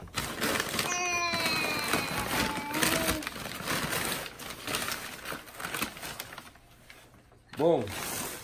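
A ratchet cranks bolts into upper tubular control arms on a Ford Crown Victoria, giving a run of quick clicking pawl bursts up close. Shuffling and clanking come between them, and a brief high squeak near the end.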